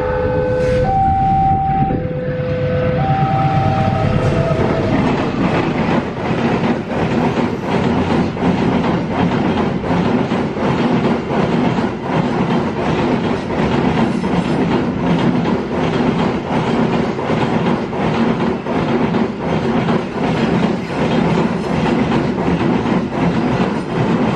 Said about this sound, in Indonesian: suara keretanya jedak-jeduk gitu, mantep, kalau ngebut keren ya